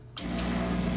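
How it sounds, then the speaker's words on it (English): A steady motorized hum starts abruptly after a short silence and keeps running evenly as a Bezzera BZ07 espresso machine's small pump refills the boiler close by. "Pump coming back on, recognizing that water has left the boiler."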